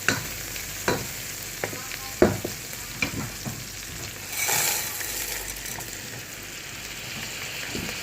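Chicken and macaroni sautéing in a pan for sopas, a steady oily sizzle under repeated sharp scrapes and clacks of a spoon stirring, with a louder hissing surge midway; no talking.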